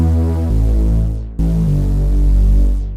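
Thick, sustained bass tone from an Arturia MicroFreak synthesizer using its harmonic oscillator, loud and steady with a re-triggered note midway and a brief gap, throbbing low drone with a humming edge and no voices.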